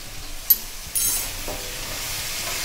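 Food sizzles steadily in a frying pan, with a couple of sharp scrapes and clinks of a spoon stirring and mixing, close by and without talk.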